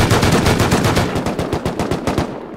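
Rapid automatic machine gun fire in the video game Rust, a fast even stream of sharp shots in close succession, loud and near, tapering off slightly at the very end.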